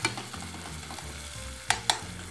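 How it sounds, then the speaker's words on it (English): Tomatoes frying in olive oil in a pan, a steady close sizzle with a couple of sharp stirring scrapes near the end, no talking. "So while our tomatoes are frying,"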